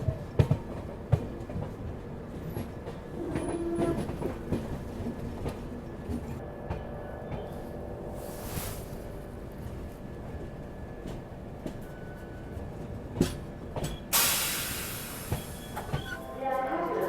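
Train arriving at Makrana Junction station, a steady rumbling roll of wheels on track with occasional clatter and a brief high squeal near the end, heard from inside the carriage.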